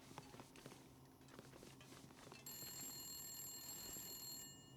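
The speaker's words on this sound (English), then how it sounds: "The phone's ringing." A telephone rings faintly in The Long Dark, a thin electronic ring that begins partway through over quiet footsteps and ambient room noise.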